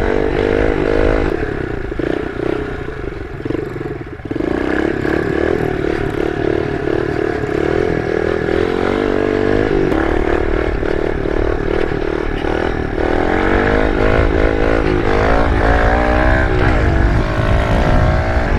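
Kawasaki KLX 110 pit bike engine heard close while riding, a loud continuous buzzing drone that rises and falls with throttle changes, with a brief dip near the start and clattering mechanical noise throughout.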